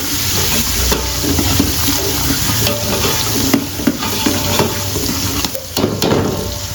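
Finely chopped onion hits a hot tadka for dal fry, setting off a loud, steady sizzle with a few spoon stirs and scrapes running through it.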